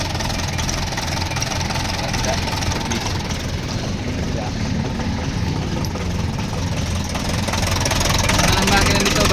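An Isuzu 4BC2 diesel engine runs close by with a steady, dense mechanical clatter that swells slightly toward the end as it revs, while people talk over it.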